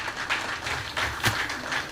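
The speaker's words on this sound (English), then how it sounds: "Another hand of applause for Dr." Conference audience applauding after a keynote speech, a steady wash of clapping throughout a short stretch at moderate level.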